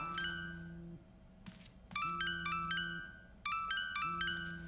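A cell phone rings in the game Tell Me Why, a repeating electronic ringtone of bright chiming notes over a low sustained tone, clear and alone in several bursts.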